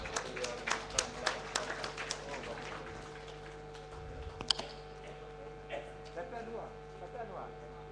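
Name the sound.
audience applause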